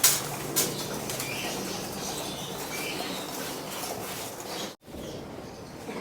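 Pigeons from a flyer mix loft flap their wings steadily and close by as they crowd into the loft, a dense continuous flutter that cuts out briefly near the end, then resumes.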